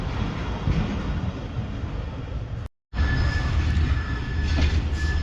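The Shalimar Express runs toward Kotri with a loud, steady roar of wheels and rattling carriages heard from on board, with a faint high squeal. There is a brief dropout partway through.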